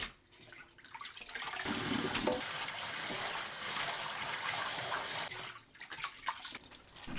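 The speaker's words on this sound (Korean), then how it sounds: "찬물에 두세 번 헹궈주세요" Butterbur shoots being rinsed in cold water, with a steady broadband wash of running water and splashing lasting most of the clip, quieter dribbles at the start and end.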